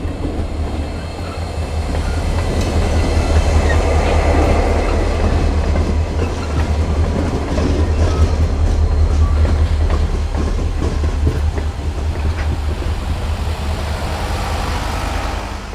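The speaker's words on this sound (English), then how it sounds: "capturing the locos and crew car heading back out" A freight train of locomotives hauling rail cars and a crew car rumbles past steadily with low heavy engine drone and rhythmic clatter of wagons on the rails, loud and close throughout.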